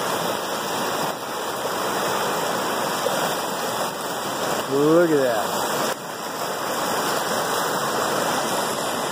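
Lewis Creek runs high, its water rushing in a constant loud broadband roar, close by and continuous, while someone briefly speaks over it.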